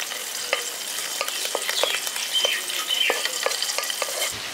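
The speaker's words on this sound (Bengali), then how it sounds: "এবার প্রথমে এটাকে ভেজে নেবেন হালকা একটু।" Cumin, dried chili and curry leaves fry in hot oil for village-style poha polao, a dense continuous sizzle broken by rhythmic scraping stirs of a spoon against the pan, close and alone.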